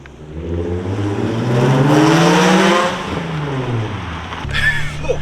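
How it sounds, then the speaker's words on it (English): A Nissan 350Z VQ engine with straight-pipe exhaust revs up loudly, its pitch climbing and holding before falling back, with a brief burst of noise near the end. "So that's what it takes to make a VQ loud? Straight pipe."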